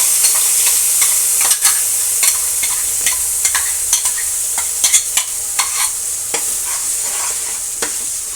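Ground paste sizzling in hot oil for a kofta gravy, a loud constant hiss with a scatter of sharp stirring scrapes and clicks across the whole stretch and no talk.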